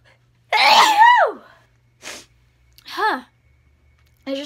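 A person sneezes hard and close, a loud explosive burst, followed by short breaths and a brief voiced sound, then the onset of another sneeze.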